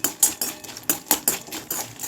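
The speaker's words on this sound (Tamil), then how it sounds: "இப்போ இதில் இந்த சுண்டை வத்தலை வறுத்து எடுத்துக்கலாம்" A metal spoon scrapes and clinks against a kadai as dried turkey berries (sundakkai vathal) are stirred and roasted in sesame oil, in about ten quick, close, rhythmic strokes with no talking.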